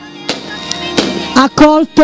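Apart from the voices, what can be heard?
fireworks during a religious procession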